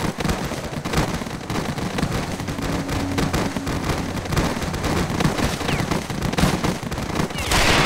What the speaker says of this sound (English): apparently I'm being shot at